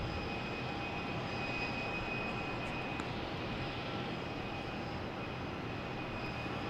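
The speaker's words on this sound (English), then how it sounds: "Next to arrive, we have a JetBlue coming in from Austin." A JetBlue airliner arriving at Boston Logan Airport from Austin gives off a steady, distant jet engine roar that holds even and unbroken throughout.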